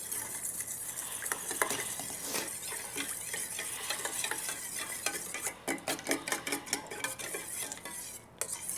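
Ingredients for Thai Nam Tok Moo, a spicy grilled pork neck salad, are mixed with a spoon in a bowl, making continuous close scraping and clattering that turns into quicker, sharper clinks toward the end.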